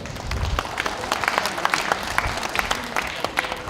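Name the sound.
audience applause welcoming a performer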